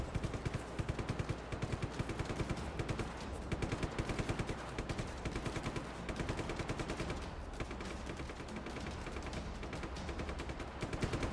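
Enemy soldiers in Just Cause 3 fire sustained automatic gunfire in dense, repeated bursts, loud and overlapping with brief gaps.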